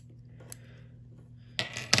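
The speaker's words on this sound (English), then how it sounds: "right now I'm just going to cut it" Scissors snip the thread tail while tying a Woolly Bugger fly: a quiet stretch over a low steady hum, then two short, crisp cuts close by.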